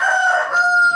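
A rooster crows loudly and close, a single sustained call lasting about a second, with no talk over it.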